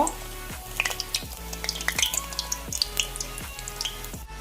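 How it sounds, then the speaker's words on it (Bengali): Snacks made from sugar and raw egg deep-fry in a pan of oil, giving a moderate, continuous bubbling sizzle with scattered crackles and pops and a few faint scraping turns, with no talk. "এবার আমি এটাকে উল্টে পাল্টে ভালোভাবে ভেজে নিব"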